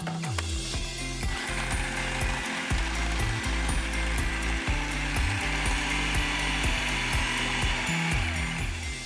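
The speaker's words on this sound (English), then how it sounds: "Okay, so I'm going to blend this first. Just give that a mix." A kitchen blender whirs while mixing apple pie pastry ingredients, a loud, close motor drone with a rhythmic ratcheting chatter as the contents churn, running continuously without voices.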